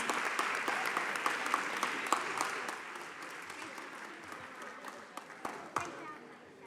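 A school board meeting audience applauds student performers, a full round of clapping with distinct sharp claps that gradually tapers off, with faint talk underneath.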